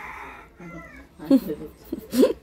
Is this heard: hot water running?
no